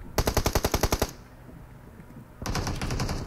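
Bursts of automatic gunfire in the shooting game PUBG Mobile: a rapid string of about a dozen shots, a short pause, then another sustained burst, loud and close with no talk.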